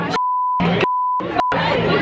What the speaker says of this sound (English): That's a lot of beeps,